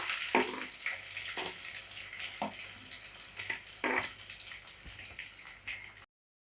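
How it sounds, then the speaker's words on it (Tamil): Finely chopped onions sautéing in a pan for moringa leaf kootu, a soft crackling sizzle broken by repeated stirring scrapes and clinks, heard up close with no voices. "வெங்காயம் நல்லா கோல்டன் ஃப்ரை ஆகிற வரைக்கும் வதக்கி விட்டுட்டே இருங்க"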